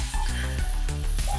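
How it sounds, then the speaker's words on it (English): Heavily seasoned chicken laid into a big pan, giving a short, steady sizzle under kitchen background noise, with no talking. "We're gonna hear that sizzle."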